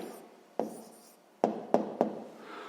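A pen writes out the answer to a sixth-grade math exercise: soft scratching broken by a few sharp taps and strokes on paper, close and quiet, with no talking.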